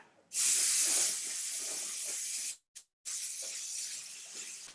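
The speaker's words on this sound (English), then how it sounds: "I think I'll just spray something in the middle of that circle." Aerosol spray can hissing onto a woven withy craft piece in two steady bursts, the first about two seconds long, a brief gap with a tiny puff, then a second burst; close and loud with no talking.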